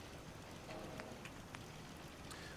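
Rain in the video game Fallout 4, a faint, steady hiss of rainfall with scattered soft drop patters, quiet and continuous without speech.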